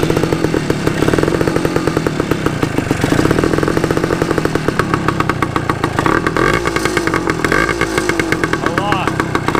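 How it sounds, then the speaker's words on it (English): A Suzuki TS185 two-stroke motorcycle engine runs loud and continuous through a homemade muffler, its rapid buzzing exhaust revving up and down close by, with a voice speaking over it. "Let's see if my homemade muffler actually quietens it."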